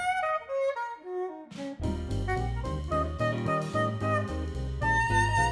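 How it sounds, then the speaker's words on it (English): VHorns virtual soprano saxophone sample library playing the solo from a Monsters, Inc. theme mock-up: a bright, lively melodic line that opens alone. A full jazzy band backing with bass and drums then joins and carries on beneath it. "I'm going to use the solo from a short mock-up of the Monsters, Inc. theme tune. This is for soprano sax,"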